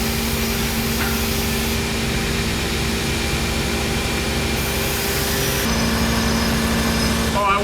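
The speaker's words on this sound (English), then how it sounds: "These belts eat steel so fast that we can rough grind with an 80 grit" A belt grinder with an 80 grit belt rough grinding axe steel, a loud continuous whirring roar that holds steady throughout with a faint shift in tone near the end.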